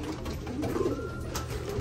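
Pigeons, two cock birds that are brothers and prize-winning racers, coo softly and steadily against a low background hum, the murmuring calls running continuously through the moment.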